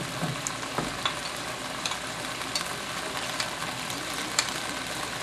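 Hoisin beef sauce sizzles steadily in a hot pan after cornstarch is added, with a soft continuous frying hiss and occasional faint stirring clicks, close and fairly quiet.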